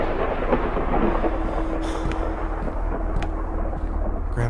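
Thunder rolls through a video game thunderstorm, a constant dense hiss of rain with low rumbles and a few faint crackles, steady and fairly loud throughout.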